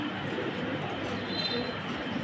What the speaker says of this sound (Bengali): সুন্দর সুন্দর কোয়ালিটিফুল বেশ কিছু কবুতর দেখতে পারবেন।